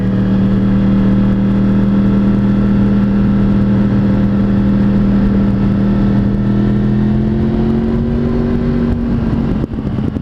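A motorcycle engine hums loudly and steadily while riding on a spring day, its pitch holding even and then rising slightly as the bike accelerates toward the end.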